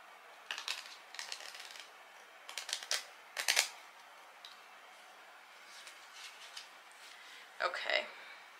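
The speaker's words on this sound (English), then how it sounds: "let's do one more good shuffle" A deck of tarot cards is shuffled by hand, giving several short, crisp riffling bursts separated by quiet pauses, close and fairly soft.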